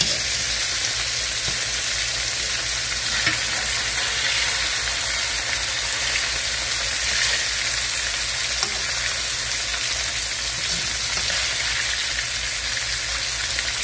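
Seasoned fish fries in a pan with a loud, continuous crackling sizzle, close up and unbroken, with light popping throughout and no speech.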